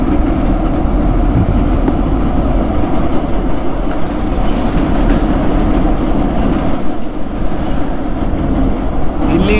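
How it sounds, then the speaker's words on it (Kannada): A train crosses Pamban Bridge near Rameswaram with a loud, close, continuous rumble and rattle that holds steady throughout, with no talk. "ಪಂಬನ್ ಬ್ರಿಡ್ಜಲ್ಲಿ ಒಂದು ರೈಲು ಹೋಗುದು ಸಹ ನೋಡಿ ಆಯಿತು."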